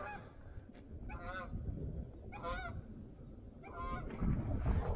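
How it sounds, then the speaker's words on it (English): Geese honk in three separate bursts of nasal calls, moderately close, over a constant rumble of outdoor wind or traffic noise. "Geese."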